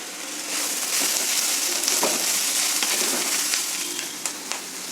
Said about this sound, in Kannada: ಈಗ ಒಗ್ಗರಣೆ ಎಲ್ಲ ಚೆನ್ನಾಗಿ ಫ್ರೈ ಆಗಿದೆ